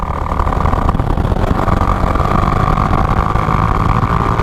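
A Yamaha R15 V3 motorcycle with 31,000 km on it, its engine running at a steady drone while riding, loud and close with constant wind and road rush.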